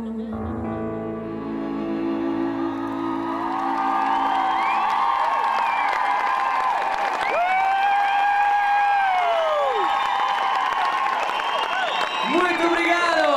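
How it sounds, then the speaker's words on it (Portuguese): A concert audience applauds and cheers at the end of a performance by a Brazilian trio, with whoops and excited shouting rising over steady clapping; high, sustained voice calls ring out above the crowd. "No fim, os aplausos do público e o entusiasmo do trio brasileiro"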